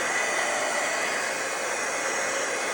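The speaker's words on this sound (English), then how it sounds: "you can also just take your heat tool and dry it off and it'll dry" A handheld heat tool blows steadily and loudly for the whole stretch, a constant broadband hiss and whir as it dries stamped ink on paper.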